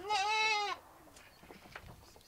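One goat lets out a clear, wavering bleat lasting under a second, close and fairly loud, then fades into quiet outdoor background with faint scattered noises.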